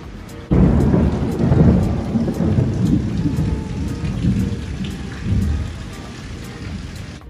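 Heavy rain pours steadily, with deep rolls of thunder rumbling through the downpour, close and loud throughout.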